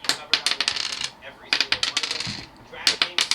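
A hard plastic LEGO piece is dropped and tumbled, giving quick bright clattering clicks in bursts like rolling dice, close and crisp with short pauses between rattles.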